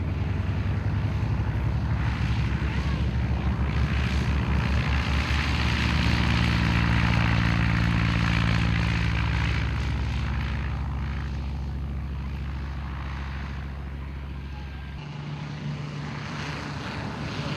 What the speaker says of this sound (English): This impressive-looking firefighting aircraft is an Air Tractor AT802. It is powered by a 1010 kilowatt Pratt & Whitney turboprop.